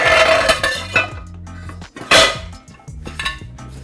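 Metal pots, pans and utensils clatter and clink as kitchen items are shifted around a crowded stovetop area while lobster ravioli cooks, a busy run of close knocks and rattles with a louder crash midway.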